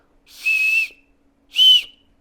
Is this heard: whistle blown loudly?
yes